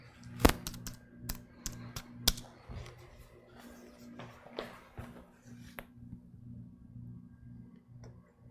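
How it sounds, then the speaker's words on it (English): Irregular clicking keystrokes on a computer keyboard, close and fairly quiet, in uneven bursts over a low electrical hum, with a voice briefly in the background. "Wrong keyboard, Carey."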